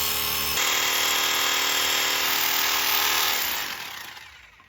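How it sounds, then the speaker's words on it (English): A drill fitted with an impact chain drives an eight-foot rod into the ground with a loud, steady, buzzing hammer-rattle that holds for about three seconds and then winds down and fades. "The drill has like an impact chain to drive it."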